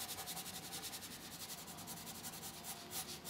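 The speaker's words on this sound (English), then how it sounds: "Atmosphere will be created by rubbing, as we've done here, and you can go over it afterwards as well, like this, and rub again" Rubbing over a drawing of the Phoenix Theatre to build tone, a close, soft, rhythmic scrubbing on paper in quick repeated strokes, with no voices.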